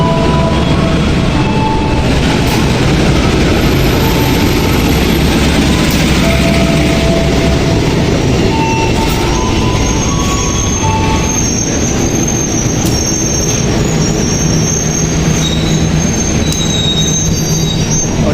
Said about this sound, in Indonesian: di stasiun Probolinggo Ijen Express berhenti kurang lebih 5 menit lebih ya